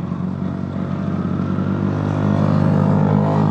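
Motorcycle engine running steadily after wading through deep flood water on a ride toward Mountain Province, a continuous close droning hum with constant harmonics that grows slightly louder toward the end, with no talk.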